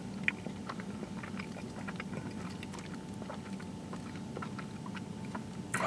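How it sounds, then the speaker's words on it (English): Quiet, close chewing of a Taco Bell bean burrito with beans, cheese and crunchy onions, soft wet bites and crunches repeating over a faint steady hum, with no talking. "Got some little onions in there to crunch on."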